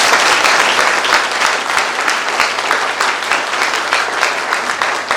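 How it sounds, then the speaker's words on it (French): An audience applauding at a military rank-promotion ceremony for chaplains in Chad: sustained, loud, dense clapping from a large crowd throughout, with no break. "Acclamez pour vous-même"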